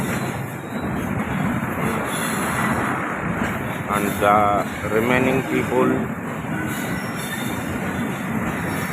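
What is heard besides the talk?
train at Rohri railway station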